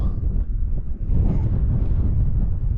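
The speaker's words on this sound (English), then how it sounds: "It is really windy." Strong winter wind in an abandoned quarry buffets the microphone in a continuous low roar with gusty surges, loud and close throughout.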